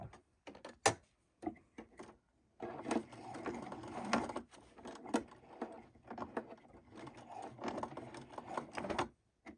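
A home sewing machine stitches through thick, layered pant hem fabric in short, uneven bursts of whirring motor and needle thumps, separated by pauses, close and fairly quiet.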